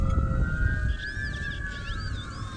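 An ambulance siren wails far off across an open park, its rising and falling tone steady and moderately faint over low rumbling background noise, with no talking.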